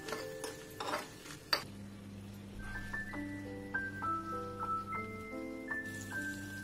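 Dishes clink and ring a few times while dahi tadka (curd) is served, then tonal chimes and music-like notes play on over a low steady hum.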